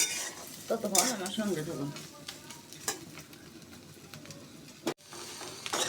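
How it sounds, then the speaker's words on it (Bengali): Onion gently softening in oil in a cooking pot, with a continuous moderate sizzle and occasional utensil scrapes, while a person speaks over it at times. "পেঁয়াজটা আমি হালকা নরম করে ভেজে নেব"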